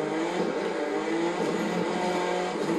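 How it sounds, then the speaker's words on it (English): A car engine in The Crew 2 racing game holds a steady, loud drone throughout, a continuous high-revving roar with no pauses and no voices over it. "Listen to the engine."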